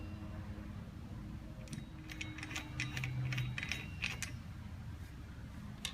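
A driver working a nut free on a 2014 Yamaha Grizzly 550 ATV wheel hub: quiet, rapid ratcheting clicks and metallic ticks in a short burst, heard faintly and up close with no talking.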